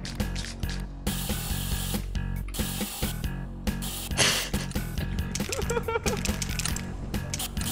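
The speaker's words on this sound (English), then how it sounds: "I'm out of spray!" A spray can hisses in bursts in the modded Lethal Company game, harsh and loud, over rattling mechanical game noise and background music with brief voices.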